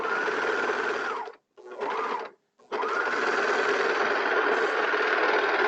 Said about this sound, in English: I'm going to run a tail off and I would knot the serging at the bottom of the dart.